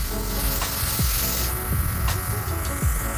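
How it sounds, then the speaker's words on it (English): A rechargeable water-shine skin airbrush sprays in a continuous, close, buzzing hiss with a faint motor whine, holding steady from start to finish. "I'm gonna close my eyes and pull this nozzle back"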